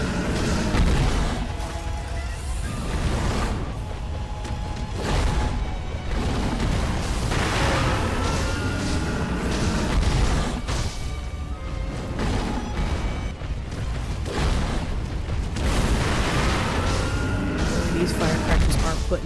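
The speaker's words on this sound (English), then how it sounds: "These firecrackers are putting in absolute work today." Firecrackers burst repeatedly during the Blazing Bull boss fight in Sekiro, a steady stream of loud pops and booms mixed with dense game combat noise throughout.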